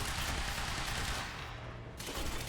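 Sustained automatic gunfire from a video game shootout in Quantum Break, a dense loud rattle of shots that eases briefly near the middle before swelling again, with no talking.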